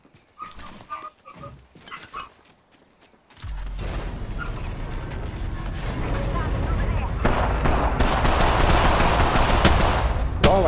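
Gunfire in the Apex Legends video game: a few scattered sounds give way to dense, loud bursts of rapid shots and mechanical clatter that build and continue to the end.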